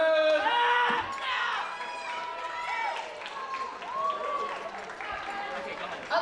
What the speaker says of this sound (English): One last round of applause for all of the performers